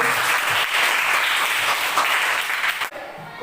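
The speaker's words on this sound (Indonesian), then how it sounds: "Beri aplaus dulu kepada kawan." Applause for a classmate fills a classroom, a steady wash of many hands clapping at close range that stops abruptly near the end.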